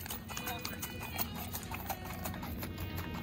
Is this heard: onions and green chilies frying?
no